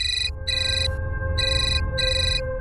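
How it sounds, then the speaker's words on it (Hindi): A phone ringtone plays in repeated electronic bursts, about four rings with short gaps, loud and steady over a low background hum. "फोन उठाओ और हाँ,"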